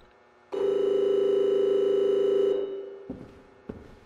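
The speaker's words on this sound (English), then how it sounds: "What is that noise? Is that a phone?" An electronic telephone ring sounds in the video game Hotel Dream, one loud sustained tone lasting about two seconds that fades into a dim hallway ambience punctuated by two soft knocks.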